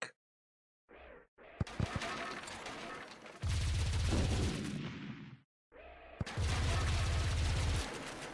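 Primary weapon fire at an inactive tank in the video game Warsphere: loud, heavy bursts of gunfire in several volleys, separated by brief silent gaps.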